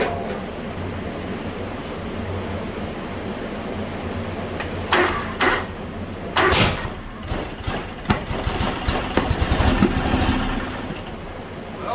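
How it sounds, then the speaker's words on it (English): A John Deere X724 riding mower engine cranks and tries to catch, giving a few sharp backfire pops and sputters over a steady idle-like drone, close and fairly loud. "Sounds like it wants to run. A little bit of backfiring and such there."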